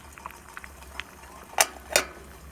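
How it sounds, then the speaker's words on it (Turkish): Water boils quietly in a pot on a stove, with soft scattered bubbling pops and two sharper pops close together near the end. "Suyun kaynayışı arkadaşlar"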